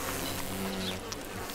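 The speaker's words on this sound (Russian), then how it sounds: "Эта пчела ищет, чем бы полакомиться." A honeybee buzzes steadily close by, a continuous droning hum lasting under two seconds with no voices.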